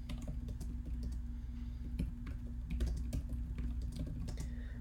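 Fingers type on a computer keyboard in a steady patter of light, close key clicks over a constant low hum.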